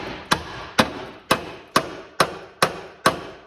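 A hammer taps steadily at a rusty bolt on a budget Sidewinder build, giving seven sharp, evenly spaced metallic knocks close up, each ringing briefly before the next, with no voices.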